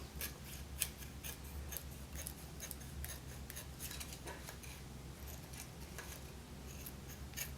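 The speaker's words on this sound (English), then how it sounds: "We just take a scissors and trim them." Scissors trimming excess material around the dial of an Aerola SR radio during restoration, a close series of sharp irregular snips and clicks continuing throughout.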